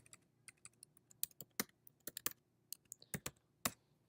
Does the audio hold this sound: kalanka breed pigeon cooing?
no